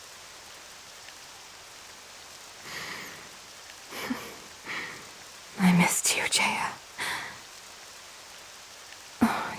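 Steady rain hisses throughout in the video game Octopath Traveler 2 while a soft, breathy voice speaks in short bursts over it.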